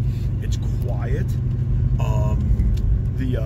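A 1969 Ford Mustang Mach 1 heard from inside while cruising, its engine a steady low rumble under someone talking, with faint road and wind noise around it.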